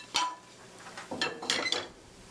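A few soft clinks and scrapes of a utensil against a plate as baked strawberry cake sponge is set down, fairly close and quiet.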